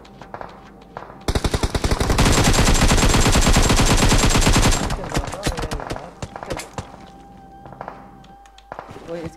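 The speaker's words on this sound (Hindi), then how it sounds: "हम सामने से बड़ी गंदी गंदी फायर रही है" Heavy automatic gunfire in PUBG War Mode tears through in a loud, dense burst of rapid shots, then breaks into scattered single cracks and footsteps, with voices talking during the fight.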